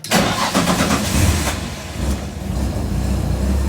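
A Nissan 300ZX with a KA24DE engine cranks briefly and catches, then settles into a loud, steady idle close by.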